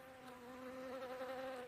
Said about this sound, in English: Now, there were bees.